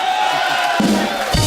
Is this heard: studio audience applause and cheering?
yes